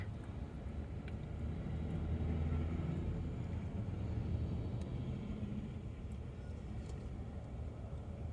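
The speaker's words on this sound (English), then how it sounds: "There's a big heavy-duty cement truck." A big heavy-duty cement truck passes at a road intersection, its low rumble swelling and fading slightly over several seconds amid distant traffic noise, with no voices.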